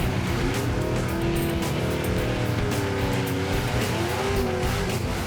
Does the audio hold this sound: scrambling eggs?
no